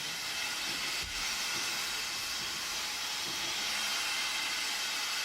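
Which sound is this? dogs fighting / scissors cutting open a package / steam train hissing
steam train hissing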